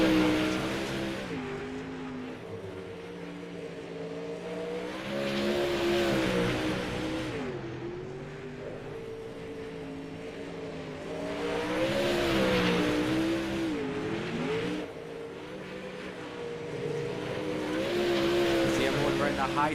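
Dirt-track race cars running at Limaland under a Monday night program, engines droning with rising and falling harmonic pitch across laps, steady and fairly loud with a commentator talking over them.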